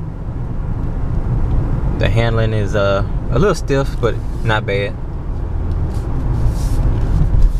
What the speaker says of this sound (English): it sounds like a truck when you're driving it. You're definitely going to hear the engine.